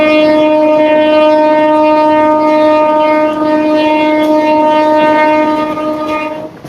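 An Indian passenger train with LHB coaches runs through hilly country near Vizag and sounds a long, loud, sustained horn that holds steady for several seconds over the rumble of the moving rail cars.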